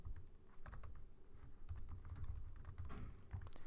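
Java code is typed on a computer keyboard in quick, uneven bursts of soft key clicks, quiet and close, with no talking.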